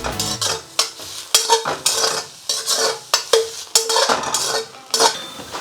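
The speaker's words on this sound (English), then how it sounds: "Stir in our salt and pepper." Broccoli being stirred with salt and pepper in a pan for a Chinese oyster sauce dish: a utensil scrapes and clanks against the metal in repeated bursts over a soft sizzle, close and fairly loud.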